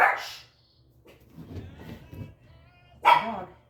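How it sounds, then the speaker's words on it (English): Dog barking indoors, two sharp, fairly close barks separated by a few seconds, with quieter shuffling movement noises in between. "It's a dog."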